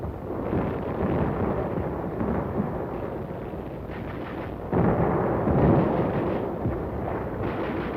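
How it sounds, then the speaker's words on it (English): Naval bombardment of the shore at Inchon during the Korean War in 1950, a dense continuous rumble of heavy gunfire and explosions with a sudden louder surge midway. "the bombardment was lifted at Walmey, but continued at Inchon."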